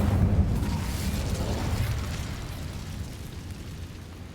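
An Incendio fire spell cast in the Hogwarts Legacy video game, heard inside a cave, bursts out as a loud, low roaring whoosh that rumbles steadily and slowly fades over about four seconds.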